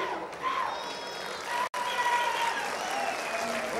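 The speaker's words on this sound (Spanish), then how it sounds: "Fuerte los aplausos, amigos de San Bernardino, Chachinoapa." Audience applause at a gathering in San Bernardino, Chachinoapa: a steady wash of clapping with voices mixed in, briefly cutting out near the middle before resuming.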